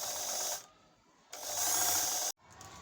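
A sewing machine bobbin winder spinning thread onto a bobbin gives a close mechanical whirring in two bursts, with a short pause between them and an abrupt stop at the end.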